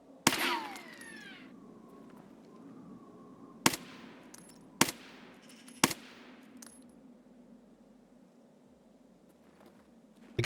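Bursts of video game gunfire, a loud opening volley followed by several single sharp shots spaced a second or so apart, ringing out clearly with no one talking.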